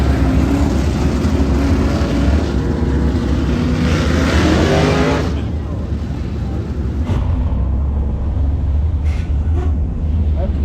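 A race car engine roars loudly at high revs during hot laps on a circle track, holding a sustained drone for about five seconds before easing to a lower, steadier pull as it continues running.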